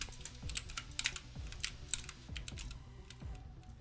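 Keys clatter rapidly on a computer keyboard during a gaming tournament match, heard through a player's stream: quick irregular clicks with a few heavier strokes, close and clear, with no voices.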